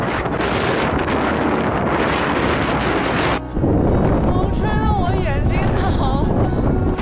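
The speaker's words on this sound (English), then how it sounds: "Patagonia wind is real though." Strong Patagonian wind on the W Trek in Torres del Paine buffets the microphone in loud, roaring gusts with a brief lull, and a person speaks over it in the second half.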